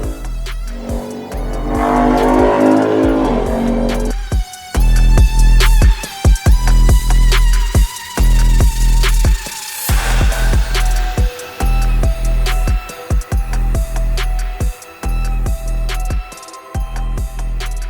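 A BMW F10 sedan with a G30-style body kit runs in sport mode, its engine loud and close, droning and revving in repeated surges with sharp transients between.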